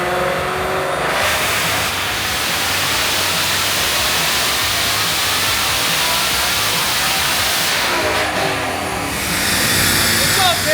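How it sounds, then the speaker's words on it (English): Whipple-supercharged 2024 Ford Mustang GT revving on a chassis dyno, a loud steady broadband roar holding across the whole stretch with rising pitch toward the end, with a voice speaking faintly under it. "We're able to rev it out. So we're going to make a couple pulls this morning"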